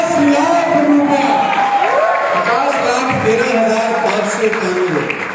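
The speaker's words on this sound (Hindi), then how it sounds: "जोरदार ताली होनी चाहिए" A live audience at an anniversary celebration in Bangkok claps loudly and continuously, mixed with scattered cheers and whoops across the whole stretch.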